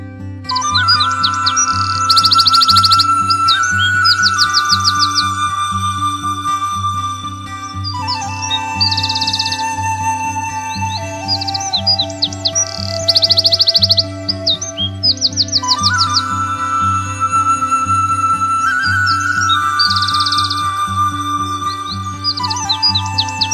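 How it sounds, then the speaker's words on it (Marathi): Birds sing and chirp continuously in repeating phrases of trills and whistles from jackfruit and mango trees in a village, clear and close, over a low steady hum. "पक्ष्यांचे कर्णमधूर गुंजन कानावर पडतात"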